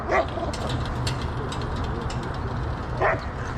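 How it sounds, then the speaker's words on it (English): Dogs at a large garage sale bark twice, one short burst at the start and another about three seconds later, over steady outdoor background noise. "you see those dogs?"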